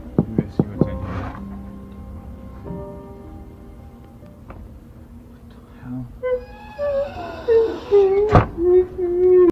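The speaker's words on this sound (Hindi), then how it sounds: "उसे रोने की आवाज़ें सुनने को मिलती है" Faint whimpering and wailing cries, thin and drawn out, grow louder and more insistent toward the end, with a few soft knocks early on.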